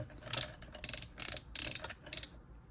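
A dollar store Power Rangers Zord toy gives rapid ratcheting clicks in five short bursts, close and crisp, with quiet pauses between.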